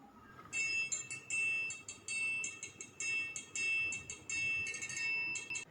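A metal triangle rings in bright, sustained strokes, struck repeatedly in a fast, shimmering roll with short pauses between bursts.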